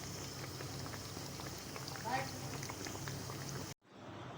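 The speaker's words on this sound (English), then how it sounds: "I am shallow frying these puffs now." Arabian puffs shallow frying in oil in a pan, a dense steady bubbling sizzle close by that cuts off abruptly near the end.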